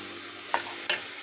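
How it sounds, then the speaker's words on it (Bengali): Masoor dal being fried with spices in a pan, with a soft continuous sizzle broken by two quick spatula scrapes, close by. "সমস্ত মশলা দিয়ে ডালটা দিয়ে কষানো হয়ে গেছে"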